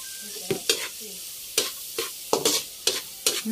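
Garlic fries in margarine with a steady sizzle, while a utensil scrapes and stirs the pan in repeated short strokes, close and clear.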